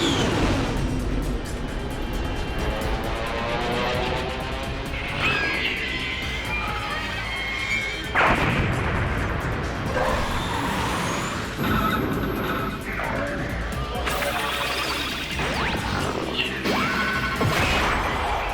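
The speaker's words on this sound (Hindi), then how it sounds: "missiles fire" Missiles are fired in a battle from Ultraman Blazar episode 23, a dense, loud wash of roaring launches, crashes and whooshing impacts running continuously with only brief dips.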